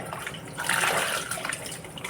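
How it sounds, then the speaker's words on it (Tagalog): Steady rushing splash of water pouring into a cooking pot for pata tim, continuous and fairly close, with no voices. "Lalagyan ko siya ng tubig."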